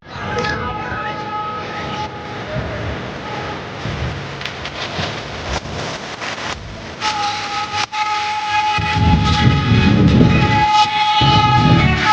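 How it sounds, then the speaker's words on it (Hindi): A train passes through New Multan railway station, loud and close, with a long sustained horn blast partway through and a rumbling, rattling build-up of wagons toward the end. "गाड़ी गुजरने के मनाज़िर दिखाते हैं"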